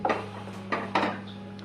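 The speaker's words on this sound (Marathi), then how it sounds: "मी गॅसवर कुकर ठेवला आहे त्यात पाणी टाकून घेतलं आहे तर त्यात आपण आता आळूचे भाजीचे भांडे ठेवून देऊ" A metal pot of colocasia leaf curry is set down inside a pressure cooker with water on a gas stove, giving a few soft close clunks and scrapes of metal against metal in a quiet kitchen.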